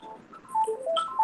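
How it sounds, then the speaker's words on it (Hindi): Telephone ringing during a lecture, a short electronic ringtone of quick tonal beeps, fairly loud and close, heard alone without talk. "मेरा टेलीफोन बज रहा है"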